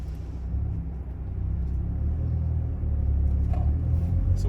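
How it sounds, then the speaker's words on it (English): Hyundai Veloster N, 2021 model with a six-speed manual, heard from inside while driving: a steady, deep engine and exhaust drone rumbles continuously at moderate loudness, with faint road noise and no talking. "they have pretty crazy sounding exhausts"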